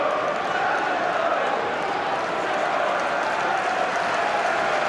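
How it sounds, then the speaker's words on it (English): A packed football stadium crowd at a Tottenham Hotspur versus Arsenal match applauds the visiting Arsenal fans, a steady roar of clapping and crowd noise from a distance under a commentator's voice. "Time to applaud the visiting Arsenal fans. They reciprocate."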